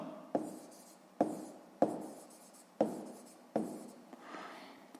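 A pen taps and scratches across paper in five short bursts as numbers are written out by hand during a sixth-grade maths exercise, each stroke starting with a sharp tick and fading, with quiet pauses between.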